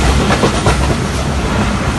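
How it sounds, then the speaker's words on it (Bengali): Titumir Express passenger train running on rails between Saidpur and Panchbibi, nearing Phulbari station, with a steady, loud, close rumble of wheels and carriages throughout and no voices. "আমাদের ট্রেনটি এখন প্রবেশ করলো ফুলবাড়ি রেলওয়ে স্টেশনে"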